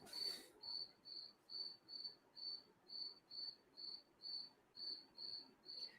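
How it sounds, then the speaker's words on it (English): Crickets chirp steadily at night, a regular pulsing trill of about a dozen evenly spaced bursts over a faint background hum, moderately loud and close with no talking. "Loud crickets tonight."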